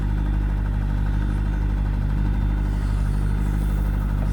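An electric winder raises a mast with a steady, loud mechanical drone and hum close by, running continuously without a break.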